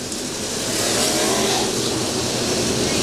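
A sprint race car engine roars steadily on the oval at Monett Speedway, a loud continuous drone with a slight swell, alone without talk.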